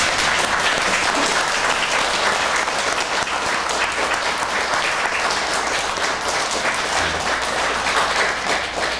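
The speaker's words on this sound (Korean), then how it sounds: "이제 축복의 박수 한번 해주시면 고맙겠습니다." A church congregation at a pastor's installation service gives a round of blessing applause, dense sustained clapping filling the room evenly from start to finish.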